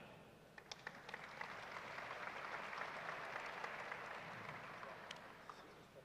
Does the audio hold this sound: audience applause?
yes